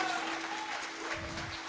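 Congregation applauding during a church sermon, a dense, steady patter of many hands at moderate distance with a faint sustained tone underneath.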